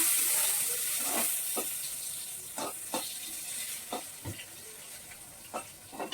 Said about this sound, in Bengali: পটল মাত্র পাঁচটা ছিল দশ টুকরো হয়েছে তাই ভেজে দিচ্ছি